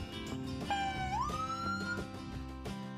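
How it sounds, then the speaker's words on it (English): A police siren wails, its tone sweeping upward and then holding steady, over a background hum of traffic or an idling engine. "see how all the buttons and switches worked the different sirens"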